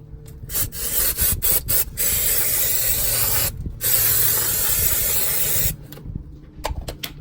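Cleaner sprayed onto brake calipers in repeated short hissing bursts, alternating with long stretches of steady, close scrubbing, during a home caliper painting job; no talking.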